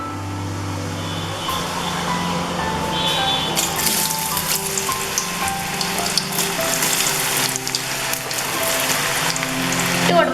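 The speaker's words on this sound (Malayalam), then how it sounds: "ഇനി നമുക്കിതിലേക്ക് നമ്മൾ നേരത്തെ മുറിച്ച് വെച്ച കഷ്ണങ്ങൾ ഇട്ട് കൊടുക്കാം" Cut pieces for sharkara varatti go into hot oil, and the frying builds into a loud, crackling sizzle that swells partway through and keeps hissing steadily close by.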